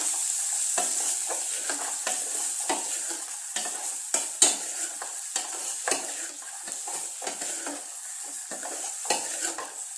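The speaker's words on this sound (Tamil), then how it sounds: "வெங்காயத்தை போட்டு லைட்டாக வதக்குறோம்." Onion sautés lightly in hot oil in a pan where mustard seeds, cumin and curry leaves have already crackled, for a South Indian beans poriyal; a constant close sizzle is punctuated by frequent sharp scrapes and clinks of the stirring spoon, no voices.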